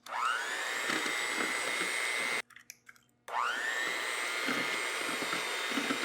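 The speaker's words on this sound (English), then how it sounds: "we got our hand mixer here" An electric hand mixer beats eggs into a keto ice cream sandwich batter, whining steadily for a long stretch, pausing briefly with a few clicks and clatters, then spinning up again.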